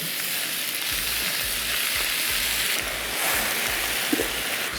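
Aibika greens hitting a hot pan, a steady bright sizzle and frying hiss, with soft rhythmic low thumps of stirring underneath, close and continuous.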